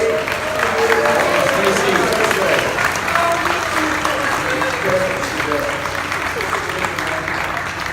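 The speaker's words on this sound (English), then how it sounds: "Big round of applause for Stacy" Studio audience applause on a Halloween episode of the game show "Last Fan Standing" with Bruce Campbell, dense steady clapping that carries evenly through the whole stretch and fades slightly at the end.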